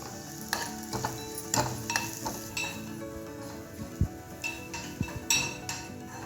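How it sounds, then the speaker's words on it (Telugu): Something fries in ghee in a pan with a steady sizzle, punctuated by repeated clinks and scrapes of a metal spoon against the pan, and no talk. "నేతిలో వేయించుకోవాలి."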